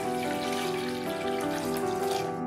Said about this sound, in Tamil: ஒரு குக்கர்ல 4 டம்ளர் அளவு தண்ணி சேர்த்துக்கிறேன்